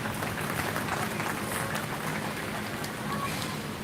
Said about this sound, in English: please give our market exhibitors a nice round of applause for a job well done